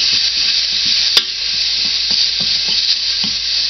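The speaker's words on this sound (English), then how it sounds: "I'm mixing that up with the green peppers and colored peppers and onion" Green peppers, colored peppers and onion stirred in a frying pan for spaghetti squash scrambled eggs, a loud steady sizzle with rhythmic scraping strokes of the utensil and one sharp clack, no voices.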